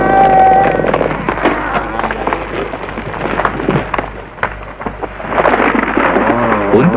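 Heavy rain falls steadily with rumbling thunder in a mountain jungle area where a helicopter turned back in rain and fog, loud and close, with sharp cracks among the downpour.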